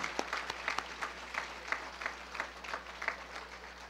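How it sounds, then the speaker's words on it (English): An awards ceremony audience claps steadily at a distance, a dense patter of hands that carries evenly on without cheers or speech. "Let's give all the women who are here a round of applause."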